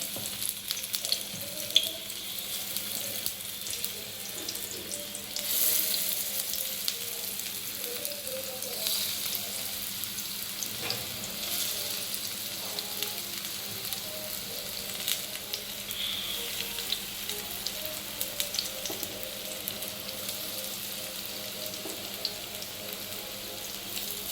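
Oil sizzles and crackles steadily as sweet corn tikki patties shallow-fry on a griddle, for a long stretch, with scattered pops and no talking.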